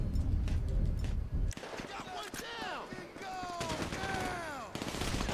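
Pistol shots in Grand Theft Auto V, a few sharp isolated cracks at the start followed by quieter scattered bangs, with someone talking over the gameplay.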